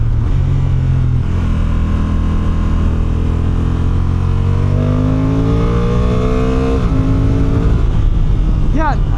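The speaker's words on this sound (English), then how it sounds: "not a powertrain that really sounds like it loves being wrung out" A 2025 Honda NT1100 DCT motorcycle with over 100 horsepower accelerates hard, its engine note climbing steadily through the gears, loud and close from onboard with heavy wind rush throughout.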